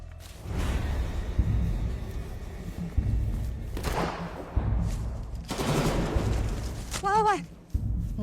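Gunfire in a Cantonese-dubbed action film: several sharp shot bursts and whooshing effects break through a dense mix of background score and voices.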